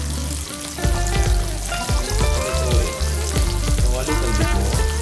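Food sizzles and crackles in a pan while a mung bean dish with glass noodles and tofu is being cooked, a close, continuous fry with occasional clatter from stirring.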